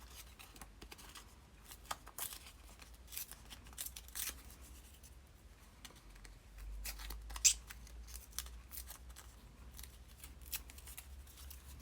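Scissors trim scrap paper for a mini junk journal, with a series of quiet, crisp snips at an uneven pace and light paper rustling in between, no talk.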